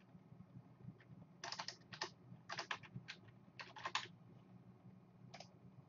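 Typing on a computer keyboard: irregular bursts of quick clicky keystrokes, close but fairly quiet, with short pauses between clusters.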